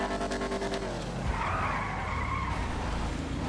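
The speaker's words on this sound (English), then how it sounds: "Handbrake turn." Car in GTA V doing a handbrake turn, a loud tire skid and squeal over a revving engine, sustained for several seconds up close with no talk.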